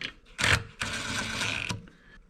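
Valve spring compressor tool being snugged down on an LS engine head, a short metallic ratcheting and grinding mechanism sound, close and moderately loud, lasting under two seconds.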